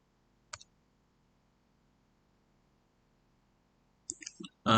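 Computer mouse clicks on a run button, one sharp click early and a cluster of clicks near the end, then a voice starts speaking over near silence.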